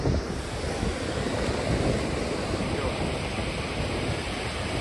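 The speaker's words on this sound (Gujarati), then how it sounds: "તમે જોઈ શકો છો કેવો મોજા આવે છે." Sea waves break at Dumas beach in a loud, steady wash of surf, mixed with wind buffeting the microphone and no clear gaps between waves.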